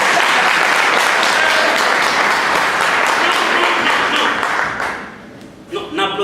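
Dense, steady applause from a comedy festival audience greeting a stand-up comedian, loud and continuous for several seconds before thinning out, with a few scattered claps and a voice at the end.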